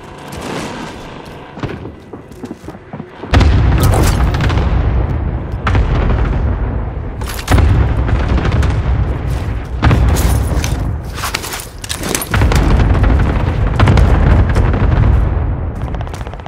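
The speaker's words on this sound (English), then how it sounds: "Allied cluster strike arriving." Cluster strike explosions in a first-person shooter video game: a loud, dense barrage of heavy booms and blasts rolling on almost without pause after a quieter opening, with no talk over it.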